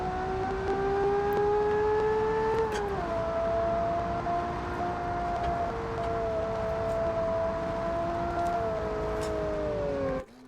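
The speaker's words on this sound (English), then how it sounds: "First gear in V12, that's insane." A V12 car revving hard in first gear, its engine note climbing as a loud sustained whine, then shifting pitch and holding before cutting off abruptly at the end.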